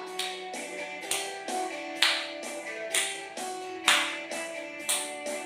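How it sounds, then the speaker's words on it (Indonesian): Children at a Sunday school worship service at HKBP Bandung clap together in time with a song. Sharp, evenly spaced group claps land about once a second over sustained music. "Kita tepuk tangan bersama-sama."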